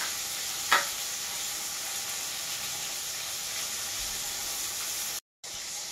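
Pointed gourd (potol) fries in hot oil with a steady close sizzle and hiss, one brief scrape early on and a moment of near silence late.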